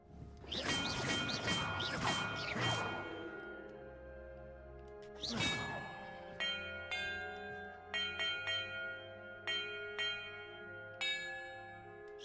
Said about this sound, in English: about the order I'm supposed to ring the bells in